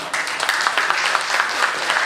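An audience at a film industry symposium clapping together in a dense, steady burst of applause that fills the hall for a couple of seconds.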